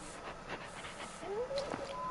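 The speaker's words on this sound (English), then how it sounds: "That's a cute little doggy." A small dog with big ears panting in the video game Far Cry Primal, soft rapid breaths with a faint whimper, heard fairly close under background game sounds.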